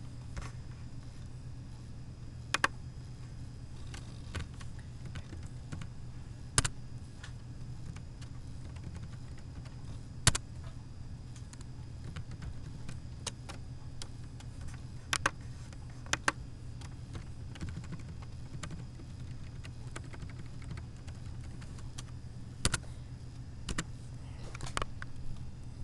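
Someone types on a computer keyboard in Notepad, sparse scattered keystrokes against a quiet steady hum, faint and close, with no talking.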